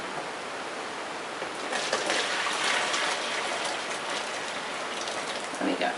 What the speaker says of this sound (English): we're going to pour this pickle into here because we need the pot again to heat the oil